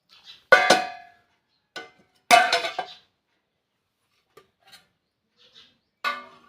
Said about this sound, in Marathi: आता आपण झाकण काढूया